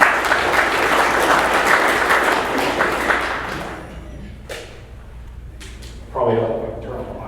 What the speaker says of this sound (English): Let's give him a warm hand of applause.